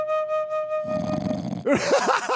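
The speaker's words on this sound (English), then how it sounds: "He's snoring." A man snoring in a studio during a radio-style talk show: deep, rasping snores rising and falling several times near the mic, following a held musical tone.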